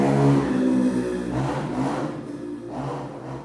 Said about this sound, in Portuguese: Desculpa o barulho aí da moto passando na rua